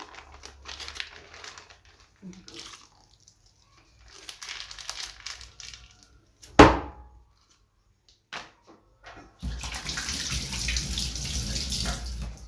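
Water pours into a plastic bag of homemade liquid soap, a crinkling of plastic and one sharp knock first, then a loud, steady rushing stream near the end.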